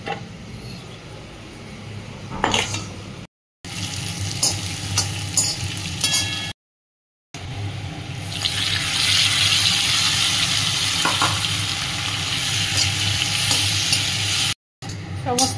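Egg masala of onion, garlic, ginger and chili paste with tomato, salt, turmeric, sugar and Kashmiri chili powder sautéing in a pan, a continuous sizzle with occasional stirring scrapes, broken by brief silent cuts.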